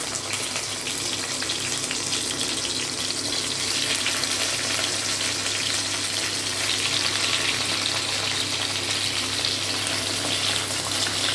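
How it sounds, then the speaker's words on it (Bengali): Paneer pieces frying in white oil in a kadai, a dense continuous sizzle close by with a watery, hissing texture and occasional stirring, no voices. "এইবার কড়াইয়ে সাদা তেল দেবো পনিরটা ভাজার জন্য এবার এই যে পনিরগুলো ভেজে নেব"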